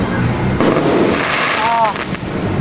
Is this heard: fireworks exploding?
yes